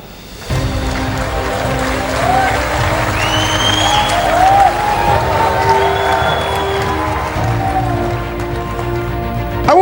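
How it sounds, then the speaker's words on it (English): An audience in a large hall bursts into sustained clapping and cheering that swells quickly and stays loud and dense, with scattered whoops rising above the applause. "Clap."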